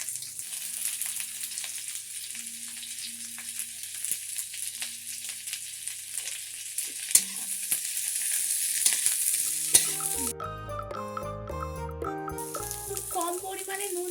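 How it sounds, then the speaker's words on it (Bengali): Diced onion and capsicum hitting hot oil with garlic on a high flame for egg chilli, a steady bright sizzle with stirring that turns busier and louder near the end. "এটা যখন এই হাই ফ্লেমে লাল লাল মতন হয়ে যাবে রসুনটা, ঠিক আছে, তখন এই ডুমো ডুমো করে কাটা পেঁয়াজ আর ক্যাপসিকামটা ওর মধ্যে দিয়ে দেবো"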